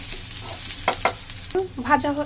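Chopped onion and garlic frying in oil until reddish, a constant sizzle broken by several sharp scraping stirs of a spatula against the pan, close by.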